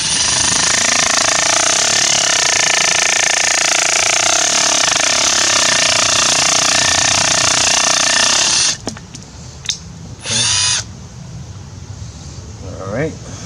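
A Milwaukee hammer drill bores into brick on setting 2 with a loud, steady rattling hammer for about nine seconds, then stops, leaving a few short whirs and light handling noises.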